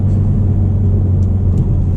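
A car with a short shifter rumbles loudly and steadily from inside during gear shifts, a deep continuous drone with no clear pause or change in pitch.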